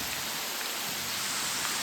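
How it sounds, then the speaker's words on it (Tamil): Heavy monsoon rain pours steadily during a ride near a waterfall, a dense, even hiss of drops pelting nearby surfaces, close and constant with no talking. "பயங்கர மழை, செம்ம மழை,"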